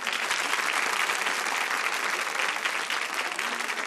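Warm studio audience applause on a Brazilian TV talk show honoring a singer, a continuous, full burst of clapping with no talk over it.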